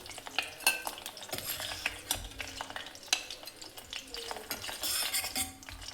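Bhatai for Vidarbha-style Savji bhaji frying in hot oil, with a steady close sizzle broken by scraping metal ladle strokes and clinks against the pan as the pieces are stirred and lifted out.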